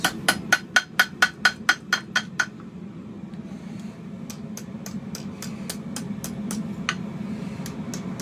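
A hammer rings on hot metal at an anvil horn while a figure-8 hairpin drift bottle opener is shaped, first a quick run of bright, evenly spaced strikes, then a pause and a second looser series of ringing blows.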